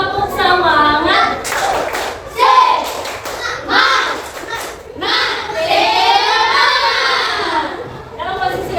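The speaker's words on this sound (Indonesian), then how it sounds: "Tepuk semangat." A group of primary school children performs a rhythmic clapping chant during a classroom ice-breaking session, with their voices chanting together over steady claps for the full stretch.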